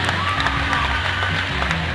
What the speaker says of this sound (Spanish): el aplauso para Uruguay